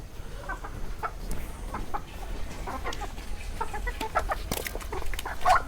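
Six chickens cluck and murmur nearby in a run of short, irregular calls that grow busier toward the end, over a faint background hum.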